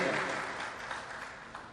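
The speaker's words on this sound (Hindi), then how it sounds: "आप सारे लोग मिलकर जरा तालियां बजा दें।" Audience applause at a mushaira poetry gathering: a crowd claps in a dense, steady patter that carries through the whole moment and eases off slightly toward the end.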